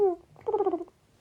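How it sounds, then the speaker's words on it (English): A cat meows twice just outside a closed door trying to come in, first a short cry and then a longer, wavering meow, close and clear in an otherwise quiet room. "I can hear a cat outside the door."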